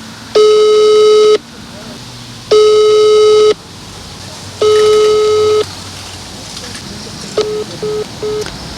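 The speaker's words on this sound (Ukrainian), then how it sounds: "Тож спробуємо зв'язатися з ним телефоном." A telephone busy signal sounds during a call, with three loud one-second beeps separated by pauses over a faint background hiss. A quieter run of short beeps follows near the end.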